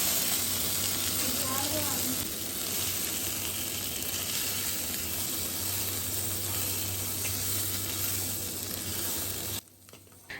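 Eggs frying with pepper in a kadai give a constant, dense sizzle that holds steady for several seconds before cutting off abruptly near the end.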